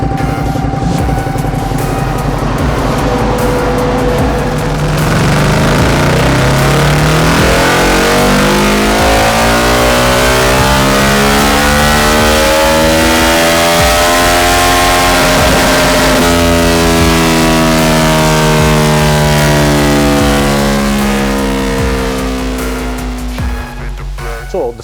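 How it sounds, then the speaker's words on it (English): A Ducati Hypermotard with decat and new air filter on a dyno, engine revving hard and climbing steadily through the gears in one long loud run, its pitch rising before tailing off at the end. "As always, we run the bike again on the dyno"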